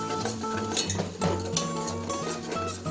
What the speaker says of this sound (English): Whisking until we get it combined